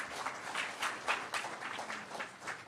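An audience breaks into a short round of applause, with steady clapping from many hands that swells and fades over a few seconds.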